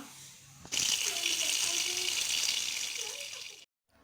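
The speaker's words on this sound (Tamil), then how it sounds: "நார்மல் வாட்டரில் கீரையை ஒரு 3-4 டைம் நல்லா வாஷ் பண்ணி எடுத்துக்கலாம்." Drumstick leaves being rinsed in plain water, with a steady gush of running water that starts abruptly, pours for about three seconds, then cuts off.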